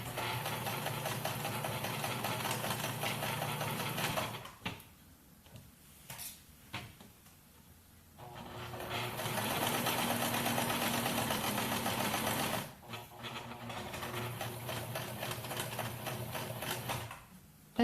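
A sewing machine stitches along the pleated edge of a fabric face mask, its mid-level mechanical hum running in long bursts separated by short quiet gaps where the fabric is adjusted.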